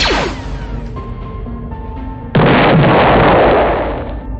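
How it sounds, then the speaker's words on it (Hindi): An RPG rocket launcher fires with a sharp whooshing blast, followed after a short pause by a loud, broad roaring explosion that slowly fades. "ये देखकर टकला नेता अपने आरपीजी से फायर करता है।"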